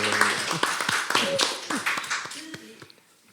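Audience applause at a live talk show recording, a burst of hand clapping mixed with voices and cheering that tapers off after about three seconds.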